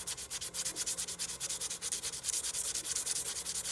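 Steady rhythmic sanding by hand at a cedar woodworking shop, quick back-and-forth abrasive strokes rasping continuously and close up, with no talk.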